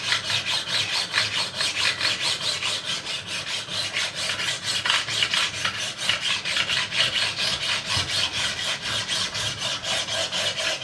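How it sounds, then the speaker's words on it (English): A flat file rasps steadily across the frets of a Made in Japan Schecter guitar during a refret, with fast, even back-and-forth strokes that stay close and loud throughout, with no voices. "I'm just going to do the same with this file"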